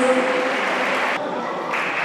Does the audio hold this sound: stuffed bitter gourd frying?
no